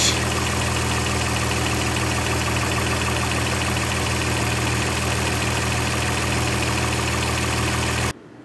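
A 2005–2010 Honda Odyssey van's engine idling with a cracked, leaking high-pressure power steering hose, a loud, steady, close-up mechanical drone that runs unbroken until it cuts off abruptly near the end.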